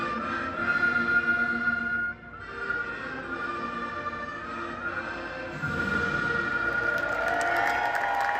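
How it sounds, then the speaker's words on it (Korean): Crowd of tens of thousands at a Major League ballpark applauding and cheering performers, a broad wash of clapping that dips briefly then swells again, steady and moderately loud. "멋진 연주를 선보인 아이와 친구들에게 큰 박수를 보냈답니다."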